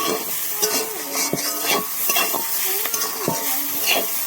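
Mixed vegetables for vegetable chow sizzle steadily in a pan while a spatula scrapes and stirs in repeated strokes, close and fairly loud, with no talk.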